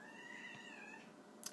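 House cat meowing, a single drawn-out, faint, quiet mew lasting about a second with a soft click near the end, no speech.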